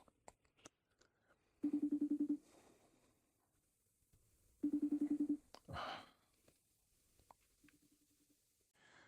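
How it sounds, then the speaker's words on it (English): Two bursts of the buzzing ringback tone of an outgoing phone call, each about three-quarters of a second long and a few seconds apart, faint and tinny over a quiet room with small handling noises. "There's the sound of the ringing."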